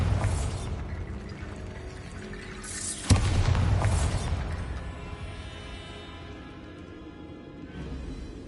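A Bombarda blasting spell in Hogwarts Legacy bursts suddenly into a loud explosion, followed by crumbling, rattling debris and a long fading rumble over quiet game ambience.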